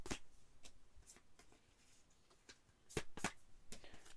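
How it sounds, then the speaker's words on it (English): Stiff tarot cards are shuffled in quiet riffles and taps, with a few sharper snaps near the end, close by and with no talking. "These are not easy to shuffle"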